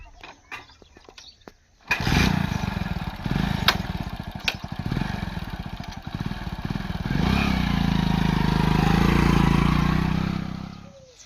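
A motorcycle engine starts up after a few faint knocks, then runs and revs close by, settling into a steady louder drone as the bike moves off.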